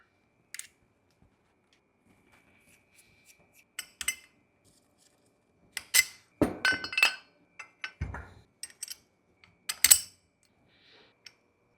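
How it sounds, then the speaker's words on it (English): Metal washers and mounting hardware for a Surron electric bike rear shock and linkage clink and tap sharply in scattered bursts, close and bright, with quiet gaps between handling. "And I'll just throw these washers on here,"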